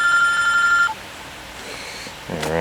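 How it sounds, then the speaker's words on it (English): A phone rings loudly and close by with a steady electronic ring tone that stops abruptly, a quiet pause, then a second ring starts. "Of course, my phone decides to ring."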